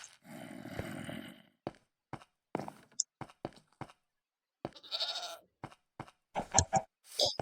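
Goats in a Minecraft world give a long bleat followed by a scatter of short clicks, thumps and brief cries, close and fairly quiet, with gaps of silence between them.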